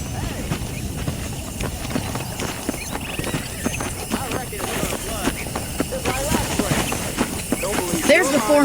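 Horse hooves clip-clopping steadily on a dirt path in the Red Dead Redemption western game, a continuous rhythmic trot under a voice and ambient outdoor noise.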